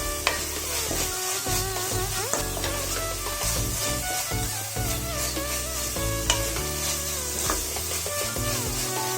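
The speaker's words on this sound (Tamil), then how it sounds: "மசாலா வதங்கினது போதும்." Masala sizzles steadily in a hot pan while a spoon scrapes and stirs it repeatedly, close up and continuous, with no talking.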